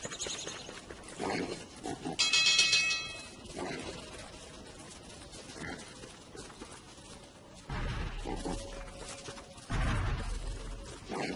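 Grunting pig noises from the video game Don't Starve, rising in bursts over background game sounds and a short chime, with no talking.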